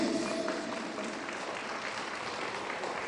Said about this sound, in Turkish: Şöyle alkışlar gelsin.